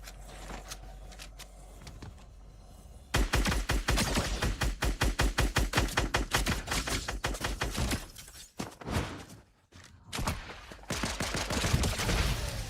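Rapid video game gunfire, a sharp automatic burst firing in tight rhythm for several seconds, then a brief pause and more scattered shots, loud and close.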